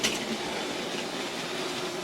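A Hornby Dublo 3-rail model coal train runs along its track, a steady, even rattle of wheels and wagons close by, with no voices.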